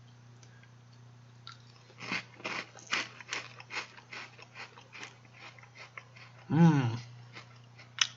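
Close crisp crunching from biting and chewing a thin, light rolled crepe from France, made of delicate crispy layers, in a rapid string of sharp crackly bursts, followed by a short hummed murmur of enjoyment over a steady low background hum.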